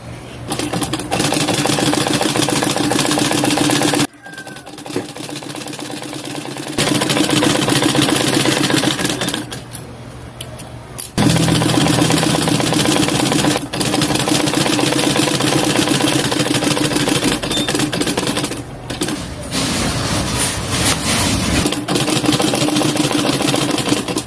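A heavy-running sewing machine mending torn clothes runs steadily in bursts, its motor whirring and needle chattering rapidly, with brief pauses between stitching runs.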